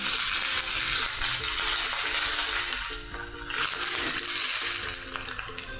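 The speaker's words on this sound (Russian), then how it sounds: "И вот точно так же обжариваем всю поленту, которая у нас есть." Polenta slices frying in a pan on a cooking show set, a steady close sizzle with crackling throughout, swelling louder near the end.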